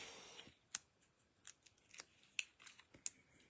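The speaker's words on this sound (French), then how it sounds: "j'aime découper les motifs dans le papier." Scissors snip out motifs from decorative Christmas-themed paper for a card, giving a series of crisp, close snips at an irregular pace, quiet overall, with no voices.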